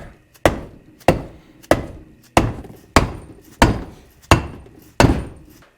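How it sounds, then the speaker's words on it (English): A hammer taps a seal into the center joint of an excavator being rebuilt: eight sharp, evenly spaced strikes, each with a brief ringing decay, close and loud with no talk. "It took a little bit of tapping and eventually worked itself in."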